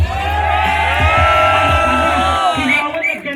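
Crowd at a hip-hop rap battle night in Lanuza shouting, whooping and cheering loudly in a sustained roar that swells, then breaks into scattered yells near the end.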